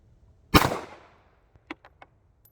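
A Romanian Beretta 1934 pistol fires one Fiocchi round, giving a single loud, sharp report that rings out and decays over about half a second. A few faint clicks follow after the shot.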